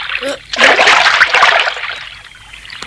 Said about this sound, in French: Retrempe-toi la tête dans l'eau.